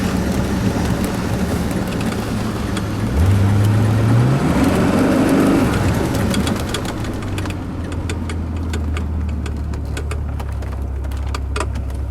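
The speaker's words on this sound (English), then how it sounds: "Upshift, downshift on this car is beautiful." A Mercedes-Benz 450SEL 6.9 W116 engine drones steadily while driving, its pitch climbing through the revs and dropping at a gear change, then settling into a lower cruising hum with road noise, no talk.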